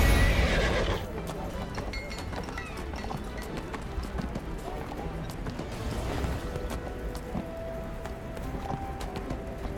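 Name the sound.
flaming armored horse mount neighing, from video game Neverwinter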